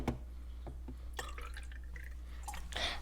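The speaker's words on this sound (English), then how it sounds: "we poured vinegar into the 3 cups" Vinegar poured from a container into three cups, with sharp drips and splashes at the start, then a brighter stream of liquid filling near the end, close and fairly quiet.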